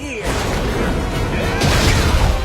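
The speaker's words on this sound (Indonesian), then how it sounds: "Hal itu membuat ketapel menembakkan batu yang tidak terkendali" A cartoon catapult hurls stones in rapid bursts, thudding booms layered over a continuous rumbling clatter, with a heavier impact surge about midway through.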